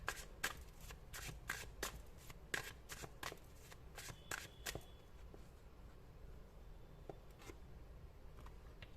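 Tarot cards shuffled by hand during a reading, a rapid run of crisp riffling flicks and papery snaps for about five seconds, then sparser soft taps and slides, close and quiet with no voice.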